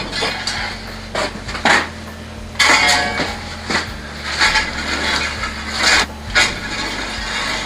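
Burning wood is stirred inside an outdoor wood boiler in freezing weather, giving loud, close clunks, knocks and metallic scrapes in an uneven rhythm over a low hum.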